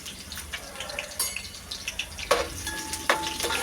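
Chicken gravy ingredients browning in a pan, a soft, quiet sizzle broken by a few clinks and scrapes of stirring near the end.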